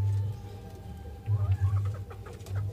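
Chickens cluck in low, bursty bouts close by, with quieter bird chirps and faint ambient sounds between the clucking clusters.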